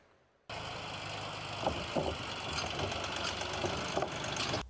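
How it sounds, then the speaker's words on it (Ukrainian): A tractor engine starts up abruptly and runs with a steady, rough rumble and occasional knocks and clanks, fairly close, as the tractor with a trailer drives onto a river ferry crossing. "Трактор з причепом заїжджає на переправу."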